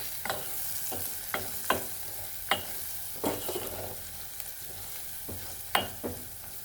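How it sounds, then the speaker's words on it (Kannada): A spoon stirs spices and salt in a pan for tamarind rice, giving sharp scraping strokes at an irregular rhythm over a soft background sizzle, fairly close and with no voices. "ಈಗೆಲ್ಲವನ್ನು ಒಂದು ರೌಂಡು ಮಿಕ್ಸ್ ಮಾಡೋಣ."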